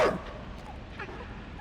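In the side-scrolling video game Inside, a dog barks and yips sharply at the start, then whimpers under faint game ambience, close and brief.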